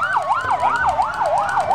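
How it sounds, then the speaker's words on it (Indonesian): A fire tanker truck siren wails loudly and close by, its pitch sweeping up and down in a fast, regular cycle about twice a second. "Wah, ini mobil tangki pemadam kebakaran."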